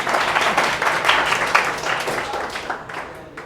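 A room full of students applauds a teacher at a Teachers' Day school celebration: dense, continuous clapping from many hands that gradually thins and fades out.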